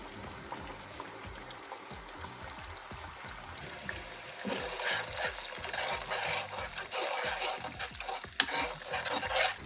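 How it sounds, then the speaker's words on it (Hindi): Ground achar gosht masala stir-fried in a pot, quiet scraping stirs at first, then a louder continuous sizzle with repeated spoon strokes, close by. "हमने जो अचार गोश्त के लिए मसाला ग्राइंड किया था वो भी डाल देंगे।"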